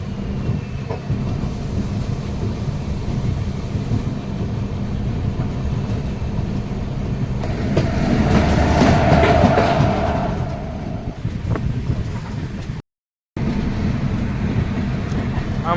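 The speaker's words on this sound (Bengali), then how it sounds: "finally train Howrah station enter করছে" Ranchi–Howrah Shatabdi Express rolling into Howrah station, a steady loud rumble of wheels and carriage noise heard from inside, swelling briefly midway, with a momentary dropout near the end.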